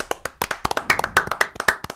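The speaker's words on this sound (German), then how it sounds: "Eigentlich ist das mal ein Applaus." Sharp hand claps burst out in a quick, irregular run of about two dozen close, loud smacks, like a small group applauding at once with no talking over them.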